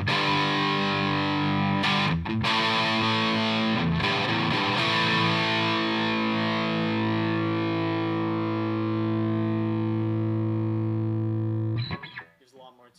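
A Peavey VTM 60 tube amp carries heavily distorted electric guitar with the presence knob turned up, giving a bright, saturated tone. Sustained chords ring close and loud with a few brief breaks, then stop abruptly near the end.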